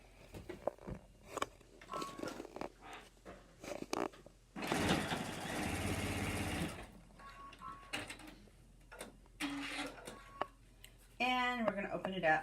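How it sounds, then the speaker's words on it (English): A sewing machine runs a half-inch seam in one steady burst of about two seconds, amid handling clicks and rustles, with a voice speaking briefly near the end. "I'm going to sew a 1/2 inch seam right here."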